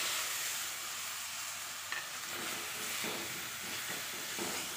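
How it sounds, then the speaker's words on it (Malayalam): Cleaned legs of a large crab sautéing in a pan for Kerala-style crab roast, a steady sizzling hiss broken by the scrape and clatter of stirring, close and moderately quiet with no talk. "ഇനി നമുക്ക് ഇതിലോട്ട് നമ്മൾ ക്ലീൻ ചെയ്ത് വെച്ചേക്കണ ഞണ്ട് ഇട്ട് കൊടുക്കാം."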